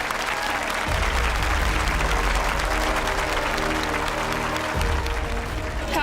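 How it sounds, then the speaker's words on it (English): An audience at a prize ceremony gives a dense, continuous round of applause for a medal runner-up, sustained and fairly loud throughout, over a low background hum. "A huge round of applause for Aiden."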